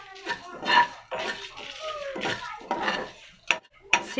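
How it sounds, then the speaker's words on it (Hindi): Black peppercorns dry roasting in a kadai make a series of scraping stirs and sharp metallic clinks in uneven bursts, close by, with brief talking mixed in. "8-10 काली मिर्चें, अब हम इनको भून लेते हैं।"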